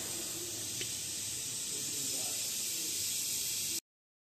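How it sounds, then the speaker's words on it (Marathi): A pressure cooker of dal and rice (varan bhaat) hisses steadily and evenly on the stove, a loud continuous steam rush that cuts off abruptly at the end. "इकडे लावला आहे वरण भाताचा कुकर."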